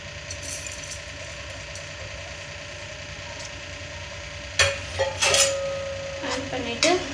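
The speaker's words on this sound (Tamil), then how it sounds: "இப்போ நம்ம ஊற வச்சுருந்த அரிசியை நான் இந்த வாட்டரில் ஆட் பண்ணிக்கிறேன்" Soaked rice pours into water in a metal cooking pot for paneer biryani, with a clatter of pot and spoon and brief splashing after a low steady background hum.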